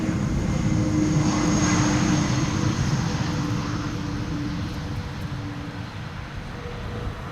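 An airliner landing in a crosswind at Amsterdam Schiphol, a steady loud broadband engine roar with a low tonal hum that fades slightly over several seconds, with no voices.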